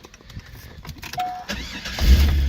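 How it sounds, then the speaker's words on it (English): A car engine cranks and catches, settling into a steady, loud running idle close by, preceded by faint clicks and a brief beep. "Car starts up and runs very well."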